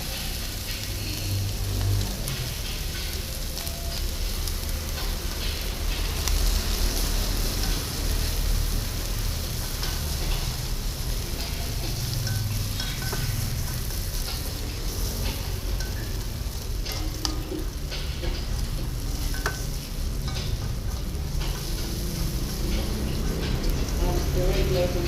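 Shrimp frying in butter in a hot pan makes a loud, continuous sizzle and crackle with occasional stirring scrapes, while a voice talks over it throughout.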